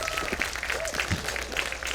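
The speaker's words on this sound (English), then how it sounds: "We haven't heard the clapping and the cheers from the crowd in quite some time." Crowd at a Counter-Strike esports match between Cloud9 and Heroic at Northern Arena, clapping and cheering steadily, with a commentator's voice running over the noise.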